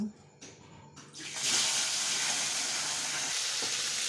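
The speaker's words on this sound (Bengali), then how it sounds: "এই তেলেই আমি মাছগুলো ভেজে নেব" Fish pieces go into hot oil in a pan and quickly build into a loud, steady sizzle after a quieter start with a few small clatters.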